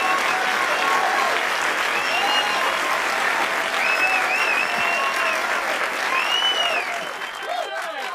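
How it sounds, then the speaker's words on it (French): Steady audience applause following a presentation at a talk on art and AI, dense clapping sustained throughout with bird-like whistles and whoops over it, tapering slightly near the end. "On peut les applaudir."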